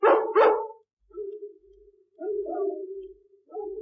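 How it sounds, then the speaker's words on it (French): Dogs barking across London in a dramatized audiobook, two sharp close barks followed by several fainter, drawn-out distant howls and yelps answering in a sequence. "je ferai l'aboiement du soir, qui se transmettra de chien en chien, de quartier en quartier, de ville en ville"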